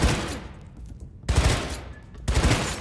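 Bursts of rapid automatic gunfire in the video game Cyberpunk 2077, two loud sustained volleys separated by brief pauses, close and dense.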